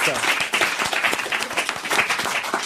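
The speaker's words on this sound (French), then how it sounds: "on vous applaudit" Brisk clapping from a television studio audience on a French talk show, a quick crackle of individual hand claps over a dense wash, with voices faintly mixed in.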